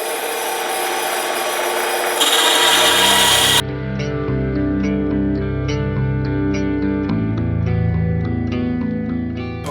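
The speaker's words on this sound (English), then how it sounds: "then cut it on the bandsaw" A bandsaw cuts through elk antler for a knife handle, giving a harsh rasping burst for a few seconds, after which a sustained tonal hum continues alone.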